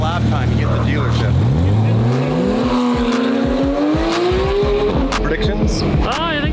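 Lamborghini race car on a track, its engine loud and close, revving up through rising gear pulls with sharp shifts and crackles, tire noise underneath and a voice briefly heard.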